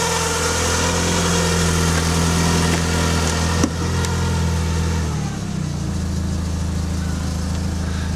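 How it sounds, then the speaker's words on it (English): A Mk2 Golf engine idles on choke with a steady close mechanical drone and low hum; midway a brief click comes as the choke is eased and the idle tone shifts slightly lower. "We'll take it off the choke a little bit and see how it's idling."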